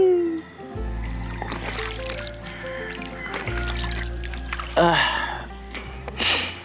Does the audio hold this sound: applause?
no